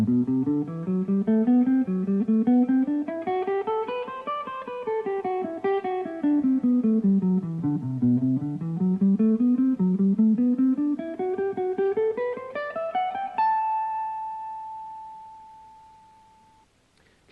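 Guitar plays a Dorian mode exercise in A slowly, a steady run of single notes climbing and descending in repeated waves before settling on one sustained high note that rings out and fades; no talking.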